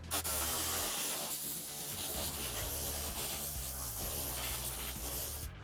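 Compressed air gun blasting air onto car wheels, a loud continuous close hiss that holds steady for several seconds with no talking.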